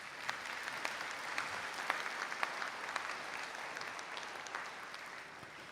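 Steady applause from the audience for graduates at a college conferring ceremony in Donegal, continuous dense clapping at moderate distance with no talk over it.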